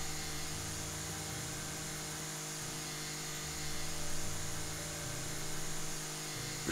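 A grass trimmer cutting lawn in the video game House Flipper (Garden Flipper DLC) gives a steady droning motor whine with a few swells and dips in pitch, close and continuous with no talking.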